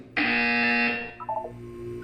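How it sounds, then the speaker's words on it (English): A harsh electronic buzzer from a wellness exercise in the video game Portal 2 sounds once, loud and steady for nearly a second, then fades into a few faint electronic blips. "You will hear a buzzer."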